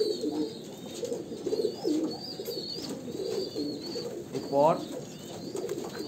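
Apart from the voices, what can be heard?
Kalanka pigeons cooing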